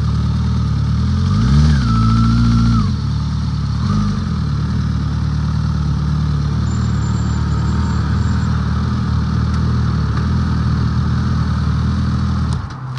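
Motorcycle engine idling steadily in a Philippine street setting, with a brief rev near the start and another small blip around four seconds before settling into a continuous low rumble throughout.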